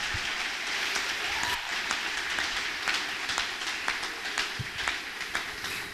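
Congregation in a French-language church service clapping and cheering for the Lord, a dense continuous wash of many hands with sharp claps scattered through it, sustained at a steady level for the whole stretch with no talk over it.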